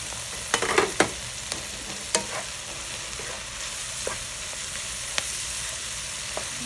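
Green peppers (shimla mirch) sizzle in a hot pan, a continuous hiss broken by a few sharp clatters as they are tossed, strongest near the start.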